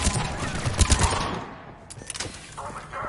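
Gunfire in the Mass Effect 3 video game, a burst of rapid shots in the first second with scattered later reports as the shooting thins out, mixed with game effects and a voice calling out.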